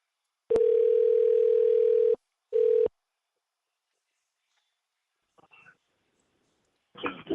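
Outgoing phone call to a realtor's office: a long, steady ring tone sounds, then a short second burst cuts off as the line connects, leaving near silence with a few faint rustles.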